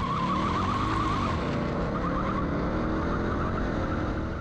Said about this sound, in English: I had a lot more wheel spin than I was expecting, but man, this car is fast.